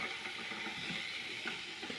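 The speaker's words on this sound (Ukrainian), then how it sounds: "Чайник шуміти." A steady broadband hiss and rumble of a 1700-watt electric kettle heating water, powered from an inverter and battery, constant and moderately loud with no speech.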